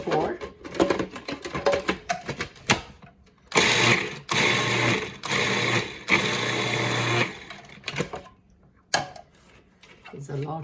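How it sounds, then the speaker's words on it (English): A mixie (mixer grinder) whirs loudly in bursts while grinding coriander chutney with dhania stems and onion, several loud runs separated by brief pauses, with someone talking before and after. "You don't have to cut it very small because this mixie is really good. It does the job."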